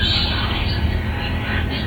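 A paranormal spirit box running all four banks at once produces a dense, steady wash of loud static noise with a fast, flickering pulse underneath, briefly and alone.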